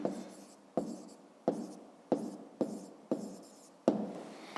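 Chalk or marker strokes on a board during a 5th-grade math lesson, a rhythmic series of about seven scratchy strokes, each starting with a sharp attack and then trailing off, close and clear with no talking.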